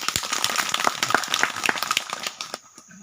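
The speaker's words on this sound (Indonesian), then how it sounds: "Ya, tepuk tangan dulu." An audience claps in applause at a village gathering in Mamuju, Sulawesi, a dense patter of hand claps that thins out and fades toward the end.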